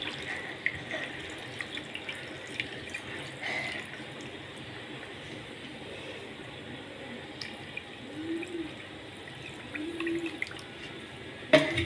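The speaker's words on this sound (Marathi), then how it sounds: "ही सगळी भांडी बुडेपर्यंत आपल्याला हे पाणी ॲड करायचं आहे" Water is added to a pot holding blackened steel utensils until they are submerged, heard as faint, intermittent trickling and splashing over quiet kitchen background.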